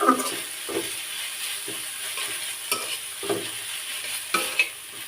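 Fish being stirred with turmeric and salt in a hot pan, giving a soft steady sizzle with repeated scraping strokes of the spoon at a relaxed, uneven rhythm, close up and with no voices.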